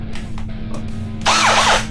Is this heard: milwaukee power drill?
yes